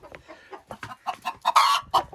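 Backyard chickens cluck close by in a quick run of short calls, growing louder toward the end, with no talk.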